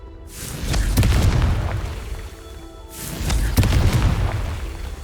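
Two heavy booming blasts from the Confringo fire spell in Hogwarts Legacy, a few seconds apart, each a loud explosive burst with a rumbling tail.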